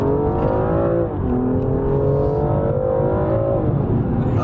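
A 500 bhp Audi TT RS accelerating hard at a car meet, its engine note loud, close and sustained, climbing steadily through the gears with a brief dip at a shift.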